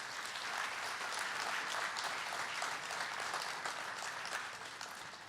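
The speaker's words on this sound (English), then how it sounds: "we have a resounding applause for this year's top performers" Steady, dense applause fills an awards ceremony hall honoring top performers, a continuous wash of many hands clapping at moderate distance that stays even and eases slightly near the end.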